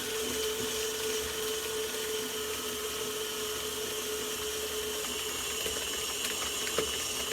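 A stand mixer beats choux paste dough in a steady, continuous whir, even and fairly loud from start to finish with no talking.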